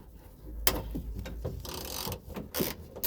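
Hex screws, 5 mm, being loosened and broken free with a ratchet on the door lock of a VW T4 van, giving a run of close, sharp mechanical clicks and metallic ratcheting in uneven bursts with short pauses.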